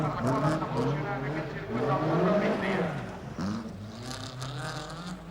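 Toyota race car at the 1990 Race of Champions, engine revving up and down through gear changes as it corners hard, loud and close, with a commentator talking over it.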